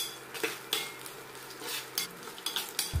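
Garlic, mustard seeds and cumin frying on a low flame, a faint sizzle under repeated light taps and scrapes of a spoon against the pan, quiet and close.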